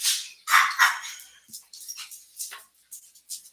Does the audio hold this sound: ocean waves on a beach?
no